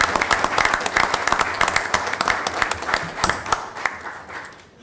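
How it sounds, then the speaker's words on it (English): Crowd applause at a Village of Peoria Heights board meeting: a few seconds of steady, moderately loud clapping from a room full of people that gradually tapers off. "give a big round of applause to the players,"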